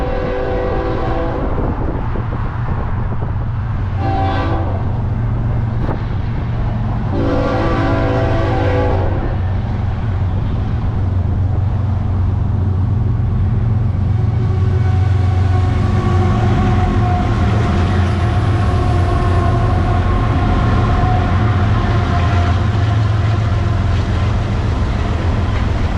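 A diesel freight train led by EMD locomotives rumbles past loudly and close, sounding several horn blasts early on before the steady roar and wheel noise of the passing cars continue.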